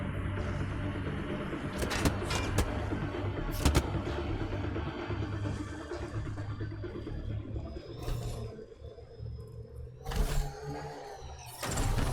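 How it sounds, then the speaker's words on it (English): A vehicle driving through rough terrain in Mass Effect: Andromeda, a steady engine rumble with occasional louder jolts and thumps, alone without talk. "We're in a car."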